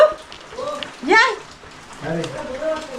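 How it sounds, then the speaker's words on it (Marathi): Heavy monsoon rain pours steadily over a farm, a dense, continuous patter throughout, with people talking over it. "पाऊस काय थांबत नाही आहे"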